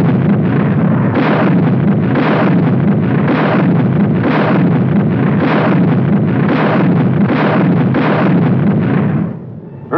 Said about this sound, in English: With a little added elevation, a tank's rifle can be darn good artillery.